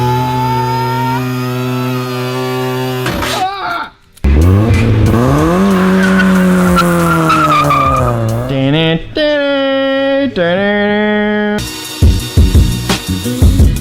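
A built K24-swapped Honda S2000 slides with tires squealing, long wavering screeches over a loud revving engine, close and intense with brief breaks between slides.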